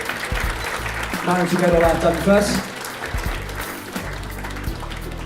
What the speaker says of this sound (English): So a round of applause if you don't mind for the people who've